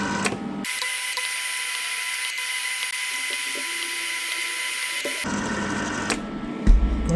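A MIG welder's wire feed motor whirs steadily for about five seconds after the torch trigger is pressed, then stops, followed by a few small clicks and a knock.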